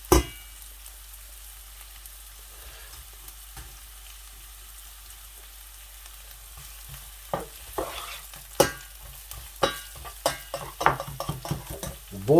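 Onions soften in a pan of oil, sizzling quietly while a utensil stirs and scrapes them, the scraping growing busier and more frequent toward the end.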